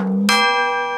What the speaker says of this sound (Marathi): याच्यापेक्षा जोरात घंटी माझ्या इथे वाजते